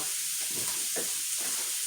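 Curry paste with tamarind juice, sugar and chilies sizzles in a pan with a steady, dense hiss, broken by a few soft stirring scrapes. No voices.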